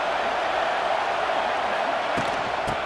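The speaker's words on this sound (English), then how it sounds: "It's early, but this crowd is fired up." A football stadium crowd at an Alabama versus Penn State game roars as a loud, steady wash of massed voices, with a couple of sharp thumps near the end.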